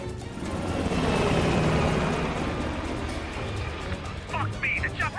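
A helicopter roars loudly and then thins out as it flies away in the shooter video game Call of Duty Black Ops Cold War, with shouted voices breaking in near the end.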